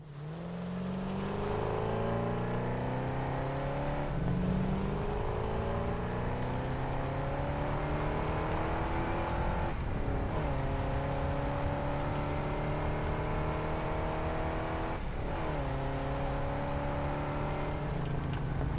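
A vehicle in the factory-building video game Satisfactory drives with a loud, continuous engine drone whose pitch climbs through several gear changes, each shift marked by a brief dip before rising again, close and alone.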